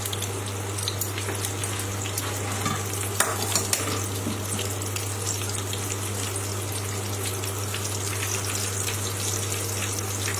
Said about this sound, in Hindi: अब हमने तेल गरम कर लिया है और उसके अंदर कोटेड फिश जो है, फिले जो है वो डाल दिए।